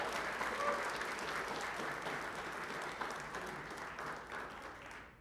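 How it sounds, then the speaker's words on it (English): Audience applause after a mariachi performance at a school board meeting, a dense, steady wash of clapping from a crowd that tapers slightly toward the end. "Let's give them a big round of applause."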